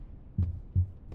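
Heartbeat sound effect in the video game Secret of the Mimic, two deep, thudding beats about a third of a second apart over a low, murky background.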